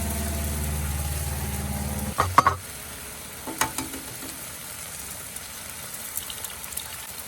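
Black Forest ham and jalapenos frying in a pan give a steady close sizzle, with a few brief clatters of a utensil stirring partway through.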